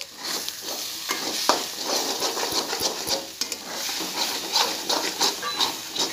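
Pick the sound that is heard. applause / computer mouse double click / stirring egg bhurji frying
stirring egg bhurji frying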